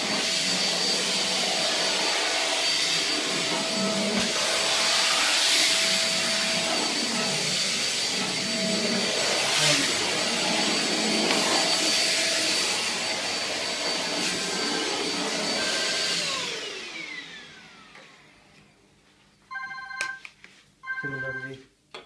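A Euroclean Litevac vacuum cleaner fitted with an extension tube and corner cleaner attachment runs with a loud, steady whine for about sixteen seconds, then winds down, followed by a few brief clicks and bumps.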